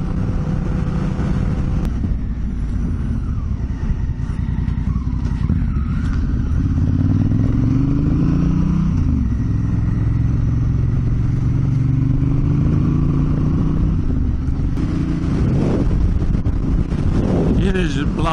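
Strong wind buffets an open rural setting beside a grain field, roaring and gusting continuously over a low engine-like rumble, with someone speaking over it intermittently.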